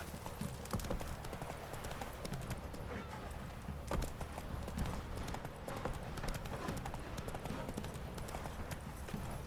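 Horse hooves clip-clop at a steady rhythmic trot in the video game The Witcher 3, close and continuous throughout, with a voice faintly heard in the background.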